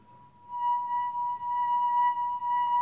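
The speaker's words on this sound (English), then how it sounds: "and then I run my finger around the wine glass, and it makes that sound" A wine glass rim rubbed by a fingertip sings one steady, pure ringing tone with faint overtones. It swells in quickly and holds loud and even to the end, alone with no voices.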